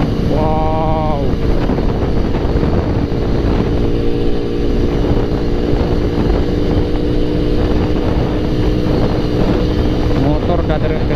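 A boat motor roars steadily and loudly throughout on a crossing from Tanjung Pinang to Batam, with wind buffeting the microphone and faint voices beneath the engine drone.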